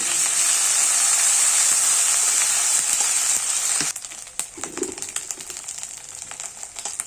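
Onion, garlic and ginger paste frying in a pan hisses with a loud, dense sizzle that drops abruptly to a quieter crackle with faint scraping and clicks.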